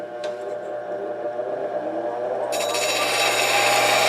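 A bowl scraper is sharpened on a bench grinder: a steady motor whine runs throughout, and a brighter, louder grinding hiss joins in partway through as the steel meets the wheel.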